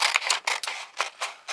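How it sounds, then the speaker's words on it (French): Large scissors snip through paper while cutting out a drawn hand, giving about six quick, close, crisp cuts in an uneven rhythm. "Donc on va découper notre main."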